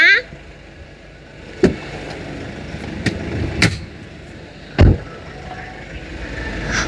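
A four-door automatic car has its engine-bay hood opened: a few sharp clunks and latch clicks stand out over steady background noise, with faint voices nearby.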